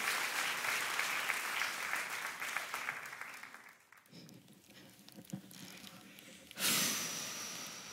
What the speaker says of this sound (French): est-ce qu'on peut accueillir chaleureusement et bien fort par des applaudissements toute l'équipe